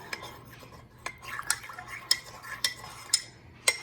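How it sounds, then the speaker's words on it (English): A spoon stirs cream into spiced coffee in a cup, with a series of light, bright metallic clinks against the sides at an irregular, unhurried rhythm, close and fairly quiet with no speech. "And you're just going to stir that up."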